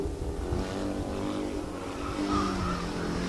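Formula SAE petrol race car on a skid pan accelerating and shifting up a gear, a steady buzzing engine note with rising harmonics heard from moderate distance over crowd ambience and faint commentary.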